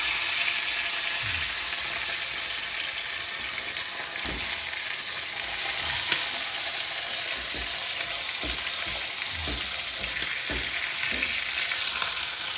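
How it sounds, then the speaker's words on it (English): An osso buco shank browns in a hot pan with loud, continuous sizzling and frying hiss, close up, broken by occasional scrapes and knocks as the meat is turned. "So as you can see, we're browning that up real dirty."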